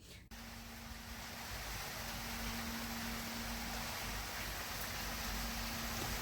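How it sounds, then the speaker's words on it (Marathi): Heavy rain pours steadily outdoors during a monsoon downpour, a dense continuous hiss that swells slightly and holds constant, with a low steady hum running underneath and no voices. "बाहेर पाऊस पडत आहे आणि भरपूर असा पाऊस पडत आहे"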